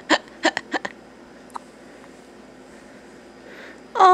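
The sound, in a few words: baby hiccuping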